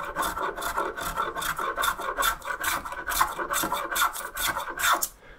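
A small hand plane shaves basswood in a quick run of about a dozen rhythmic rasping strokes, close and steady, stopping abruptly near the end.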